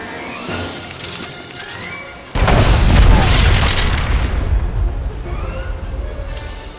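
Enemy artillery explosions in the video game SWTOR: a heavy, booming blast hits partway through and rumbles on loudly, with a voice over the sound before and during the impact.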